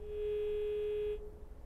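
Telephone tone on a disconnected line during a live call-in broadcast, a steady electronic tone lasting about a second before cutting off, leaving faint line noise.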